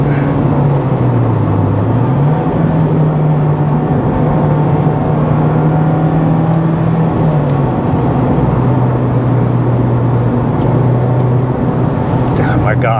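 A Mazda Miata, either a 2002 SE or a 2019 ND2 Club, is driven hard on a handling course, its engine note rising and falling in a loud, continuous drone, with voices talking over it.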